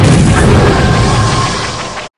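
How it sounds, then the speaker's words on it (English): Loud explosion sound effect for a stop-motion Star Wars scene, a single heavy boom with a dense rumbling roar that holds steady for about two seconds before cutting off abruptly. "so we have some explosions."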